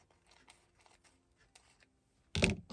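Napkin fabric being cut, with faint snips of scissors followed by one louder, close crunching cut at the end.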